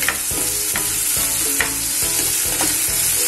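One tomato and one onion fry with salt in a pan for Kolhapuri misal, loud close sizzling punctuated by regular stirring scrapes about every half second.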